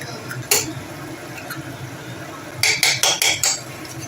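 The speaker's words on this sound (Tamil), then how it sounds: "2 எக்கு உடச்சி ஊற்றிக்கோங்க" Eggs cracked into a pan of cooking squid: a sharp crack near the start, then a quick cluster of four or five crisp knocks and splats close up over a low simmering sizzle.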